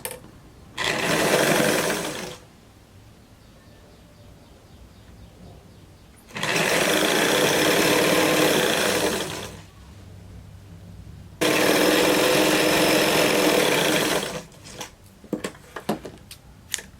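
Sewing machine stitching fabric for a skirt in three fast continuous bursts of rapid mechanical whirring, close and loud, separated by quiet pauses, ending with a few small clicks and handling sounds.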